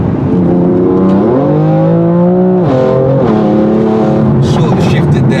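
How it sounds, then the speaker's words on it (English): A 565 bhp BMW M4 with a very loud exhaust revs hard up close. The engine note climbs and sweeps in several strong rising pulls, then drops back, filling the whole clip. "that one rev there was absolutely insane"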